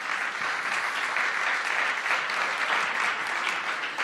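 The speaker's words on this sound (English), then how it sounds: "So let's give W.C. Smith a big round of applause" A short, steady burst of crowd applause at a mayoral housing event in Washington, continuous and fairly loud throughout, with no talk over it.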